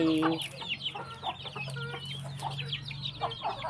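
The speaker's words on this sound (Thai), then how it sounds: "เล้าไก่" Several chickens cluck and chatter close by, with short overlapping calls and a steady low hum underneath.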